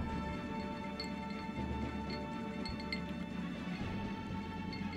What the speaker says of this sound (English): I can't talk like an old-timey radio man with a fucking wind chime in the background.